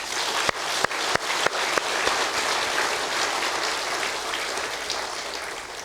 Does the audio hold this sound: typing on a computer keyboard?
no